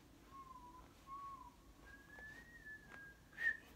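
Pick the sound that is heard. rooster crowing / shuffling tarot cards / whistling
whistling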